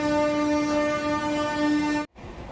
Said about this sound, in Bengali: এই ট্রেনটাও লেট করে ছাড়লো প্রায় 7:15